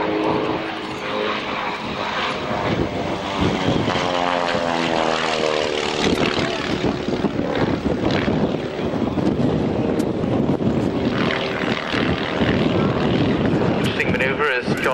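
An aerobatic propeller monoplane performs at an RAF Waddington airshow, its engine note rising and falling in pitch as it tumbles and rolls nearby, while a commentator talks over the display.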